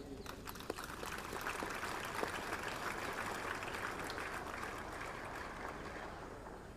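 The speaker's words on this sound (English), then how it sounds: "Ladies and gentlemen, a big round of applause to the cadets and the drill sabs" A crowd at the Officers Training Academy Chennai passing out parade gives a steady round of applause for the cadets, a dense, even outdoor clapping that holds for several seconds and fades slightly at the end.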